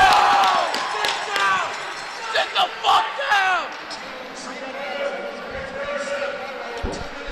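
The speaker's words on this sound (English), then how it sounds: "Hopefully our mics aren't picking up all the crowd noise here" Excited crowd noise at a high school hockey championship game fills the arena, a steady roar with bursts of cheering and clapping, while commentators talk over it.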